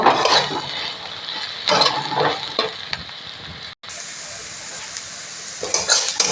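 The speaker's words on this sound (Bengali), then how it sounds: "আর এখানে রসুন আছে, আদা আছে। এগুলোকেও একটু ভেজে নেব।" Garlic and ginger sizzle and crackle in a hot pan, with bursts of stirring and spatula scraping, close and fairly loud.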